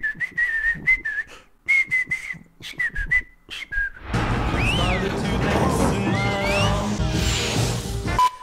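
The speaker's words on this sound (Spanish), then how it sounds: "Desarrollaron un lenguaje solo usando silbidos." Silbo Gomero, the whistled language of the Canary Islands, is heard as a series of sharp, pitch-gliding whistles in short bursts, followed by a louder stretch of mixed noise and music.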